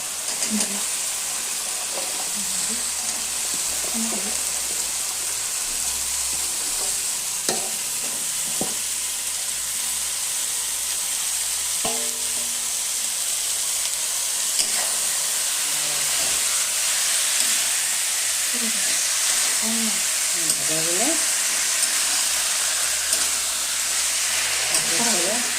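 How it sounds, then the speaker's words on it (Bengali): Drumsticks and potato pieces frying with tomato-heavy spice paste in a pan, continuous close sizzling with scraping stir strokes and a low rumble throughout, no talk. "মশলাগুলো ভাজা হয়ে গেছে, এখন আমি এখানে সজনে আর আলুগুলো দিয়ে দেবো।"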